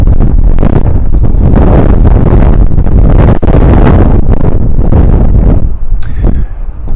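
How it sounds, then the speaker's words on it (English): Strong wind buffets the microphone in an outdoor park, a loud continuous broadband roar with gusting surges for about six seconds, then easing slightly with some quieter rustling at the end. "it's a little bit more windy today"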